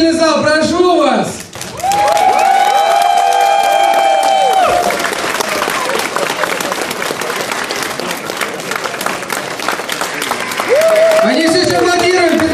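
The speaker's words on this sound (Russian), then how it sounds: "Они все еще аплодируют" An audience at a furry convention dance contest semifinal claps in a loud, sustained burst, with a presenter's voice talking and a sung or shouted line at the start and end.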